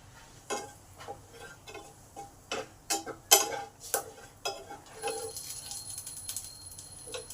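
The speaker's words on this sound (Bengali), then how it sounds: "জিরে লঙ্কাটা ভালো করে ভাজা হয়ে গেছে" Cumin seeds and a whole chili crackle in hot oil in a pan, the base for a spicy mourala fish curry: quiet, irregular pops and ticks over a soft sizzle, with no talking.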